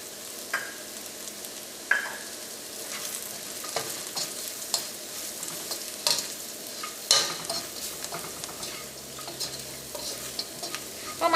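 Onions, ginger and garlic with turmeric powder fry in coconut oil for a Kerala chicken curry, a steady soft sizzle with repeated stirring scrapes and clinks of a spoon against the pan, no voices.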